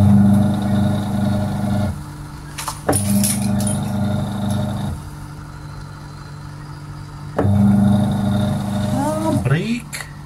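Sharp 8 kg washing machine motor running during the wash cycle with a slow-spin fault, a steady low hum that cuts off and restarts in bursts, with mechanical clicks and someone talking over it.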